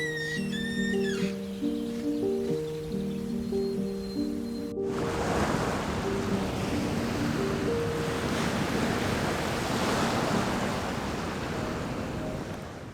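Atlantic Ocean waves break and wash along a coastal road, a loud, continuous roar of surf with wind, coming in after a stretch of musical tones.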